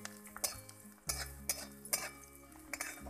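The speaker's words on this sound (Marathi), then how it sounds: "कांदा चांगला परतून घ्यायचा, लाल करून गुलाबी करून घ्यायचा." Onion is stirred in a pan on a wood-fired stove, with a metal spoon clinking and scraping against the pan in a quick series of taps, fairly faint.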